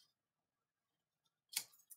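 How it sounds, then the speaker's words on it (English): Scissors snip through colored paper while cutting triangle shapes for a craft animal's ears, a short burst of cutting sound near the end after near silence. "So I'm going to cut a couple of triangle shapes"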